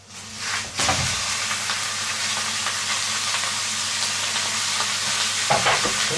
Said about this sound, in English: So we're going to put in the meat now